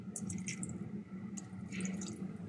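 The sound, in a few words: pouring a little water into paksiw fish dish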